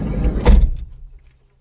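A car door is pushed open on a village outing, giving one solid mechanical thump and clatter that fades quickly into near silence.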